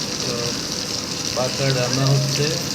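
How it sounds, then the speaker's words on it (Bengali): A large baghair fish fries in a pan at home with a steady, loud hiss and sizzle throughout. Something voice-like murmurs faintly underneath partway through. "এখানে বাড়িতে এনে মাছগুলো ফ্রাই করছি আমি"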